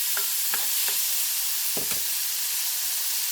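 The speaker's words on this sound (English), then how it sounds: "You can hear it sizzling." Frozen peaches hiss and sizzle loudly in a hot pan, a constant bright steamy frying sound broken by a few soft scraping stirs.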